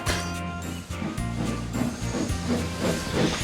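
Thomas the Tank Engine steam locomotive puffing steadily along, rhythmic chuffs under continuous hissing steam, moderately loud and close.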